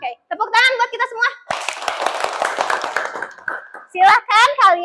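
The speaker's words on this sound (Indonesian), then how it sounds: "Oke, tepuk tangan buat kita semua." Schoolchildren in a classroom clap together in a burst of dense applause lasting about two seconds, with a voice speaking just before and right after.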